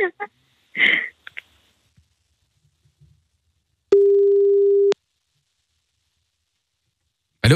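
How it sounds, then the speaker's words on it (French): A phone call's outgoing tone sounds once as a steady pure beep about one second long, clear and alone in otherwise near silence, with brief faint voices and noises before it. "C'est parti, on appelle Johan."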